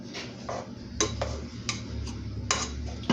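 A spoon stirs melting marshmallows in a pot over low heat, scraping and knocking against the metal in irregular clinks over a low background hum.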